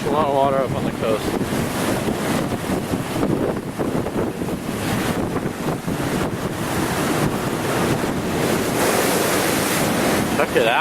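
Storm-driven ocean surf pounds the North Carolina Outer Banks coast during Hurricane Sandy. Loud waves crash and roar continuously, and heavy wind buffets the microphone the whole time.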